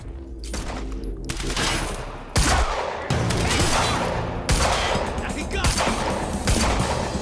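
Gunfire in a Remedy video game: a loud, dense fusillade of rapid shots crackling in overlapping bursts, close and nearly continuous, with brief gaps between volleys.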